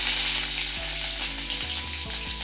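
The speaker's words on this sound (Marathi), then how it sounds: "जिरे मस्त फुललेत, त्याच्यात आता हा लसूण टाकते।" Garlic dropped into about three spoons of hot oil with crackling cumin seeds, a steady loud sizzle close up with a few brief pops and no voices.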